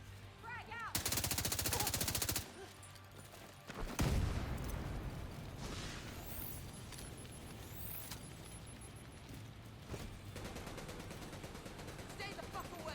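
Gunfire and a grenade blast in The Division 2 video game: sustained rapid automatic fire, a heavy explosion with a rumbling tail, then scattered shots under distant shouting voices.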